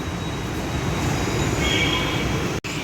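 A Hyderabad Metro train runs at Ameerpet junction station, producing a constant loud roar of wheels and motors with a faint high whine. The sound continues with no break until a brief cut near the end.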